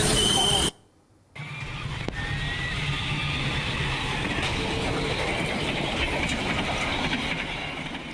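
A Jayakarta passenger train runs along a railway line at a level crossing, a loud continuous rumble with rhythmic wheel clatter after a brief silent gap at the start, recorded by an amateur at close range.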